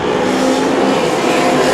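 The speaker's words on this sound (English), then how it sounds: "There's another car goes round." A speedway race car circles the track at Oceanview Speedway in Wanganui, New Zealand, its engine a loud, sustained roar with no break, heard close and alone.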